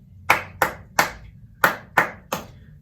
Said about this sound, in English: So you're going to do this rhythm, and I'm going to clap this one.